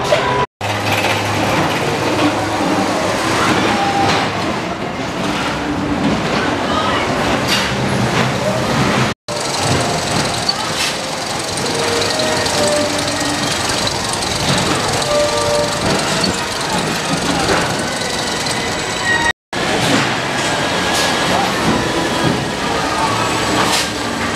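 Roller coaster ride at Six Flags New England: a loud, continuous roar and rattle of the train running along the track, with wind buffeting and scattered voices, broken by a few abrupt cuts.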